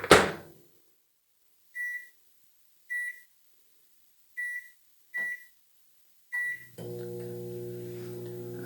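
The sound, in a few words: microwave oven running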